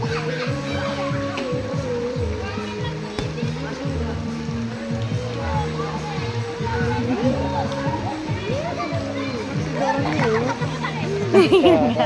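People splash into cold, clear spring water at an outdoor bathing pool in Lampung, with irregular splashes and water sloshing under near, continuous chatter from several voices including children.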